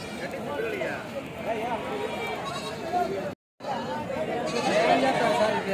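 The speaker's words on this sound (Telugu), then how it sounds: "మేకలు ఉన్నాయి." Goats bleat repeatedly at a busy weekly sheep and goat market in Kadiri, wavering cries rising over crowd chatter and nearby talking, with one brief dropout.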